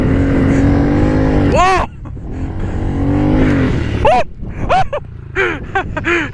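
Small pit bike engine on a dirt track, ridden in second gear, droning loudly with rising revs and shifts, mixed with wind and a shouted exclamation.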